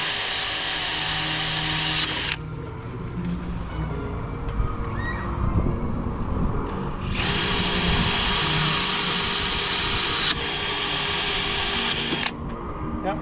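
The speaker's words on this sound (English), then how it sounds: "And we got to drill through 2 slate to do it." A power drill fitted with a small masonry bit bores through slate roof tiles, whining loudly in two long bursts separated by a quieter pause with handling noise, heard up close.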